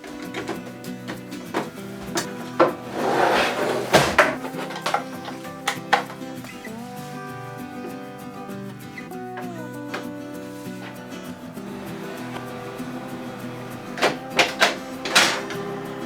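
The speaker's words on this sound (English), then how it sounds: "here I plug in and power on the printer for the first time" A Canon PIXMA TS3100/TS3300-series inkjet printer starts up for the first time, giving a run of mechanical whirs, clicks and clunks with sharp knocks near the start and again toward the end, heard close with no talking.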